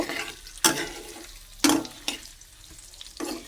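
Food frying in hot oil in a home kitchen, a soft steady sizzle broken by a few sharp clattering stirs, close and moderately loud, with no talking.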